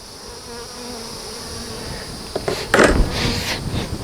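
Honey bees buzz steadily around a hive split started with capped queen cells, a constant close drone that swells with louder bursts of nearby wingbeats toward the end.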